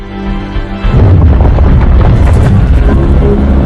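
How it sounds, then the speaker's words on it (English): Nuclear core overload explosion in a film, a huge deep boom erupting after a brief lead-in, then a loud sustained roaring rumble that stays heavy and dense to the end. "The chain reaction tears through the facility."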